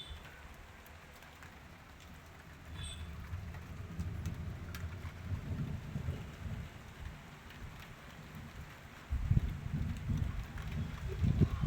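Steady rain falls during a thunderstorm, with a constant hiss of drops and low, rolling rumbles of thunder that swell midway and grow louder near the end.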